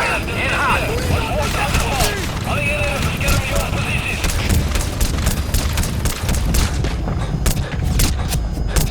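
Rapid gunfire rattles in the video game Metal Gear Solid V: The Phantom Pain, a dense stream of close shots and mechanical clatter running throughout, with voices talking over the shooting.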